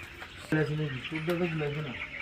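Broiler chickens huddled together in winter cluck in a short, close burst of rising and falling calls, with a voice speaking nearby.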